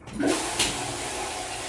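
A toilet flushes close by, with a sudden rush of water that settles into a steady, hissing swirl as the bowl drains.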